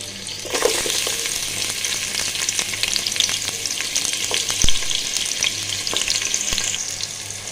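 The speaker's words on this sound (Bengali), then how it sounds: "এই পর্যায়ে আমি এখানে পেঁয়াজ কুচি দিয়ে দেব, একটা বড় সাইজের পেঁয়াজ কুচি" A large chopped onion fries in hot oil with a steady broadband sizzle, joined by occasional sharp clicks and scrapes from stirring; no voices.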